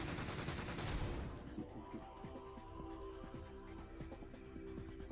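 Gunfire in the video game Freedom Wars: a rapid burst of automatic shots up front, then scattered single and short repeated shots over game music and effects, no talking.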